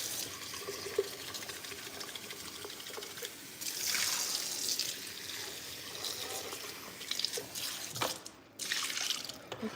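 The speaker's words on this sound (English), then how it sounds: "I'll just quickly rinse this because I don't want it to dry up." An item being rinsed under running tap water in a kitchen while breakfast is made, a steady close hiss of flowing water with splashing swells that dips briefly before resuming.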